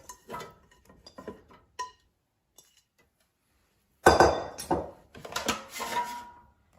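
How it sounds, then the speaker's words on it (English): Potatoes tossed with oil and seasonings go into an air fryer basket, with a few light clinks and taps, then a pause, then a louder clattering rustle as they tumble in up close. "And I will put potatoes in the air fryer."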